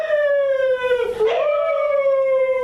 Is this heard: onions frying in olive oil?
no